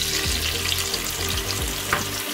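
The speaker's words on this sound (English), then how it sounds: "I'm going to add in the prawn" Prawns fry in hot oil in a pan for prawn chow mein, giving a steady, loud, close sizzle with scraping stir strokes throughout and no voices.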